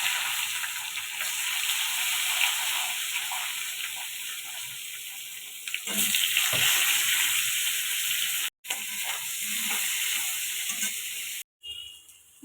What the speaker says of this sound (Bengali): আলু বেগুনটা ভেজে নিব